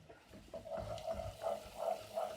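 Onions fry with cumin in a pan while being stirred, giving a soft sizzle with scraping strokes that swell in rhythmic pulses, quiet and close.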